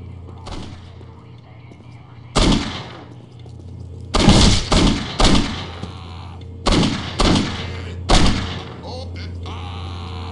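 Gunshots in the video game Postal 2, about nine loud, sharp blasts, some isolated and some in quick clusters of two or three, ringing out over a steady low hum.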